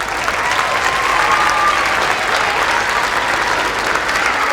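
Sustained applause from a school spring concert audience for the student musicians, a dense, steady wash of many hands clapping at full volume throughout, with no break.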